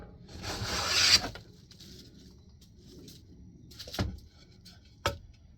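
A hand plane takes one long, hissing shaving stroke across a wooden shelf component. A couple of sharp knocks follow on the wood, close by in an otherwise quiet shed.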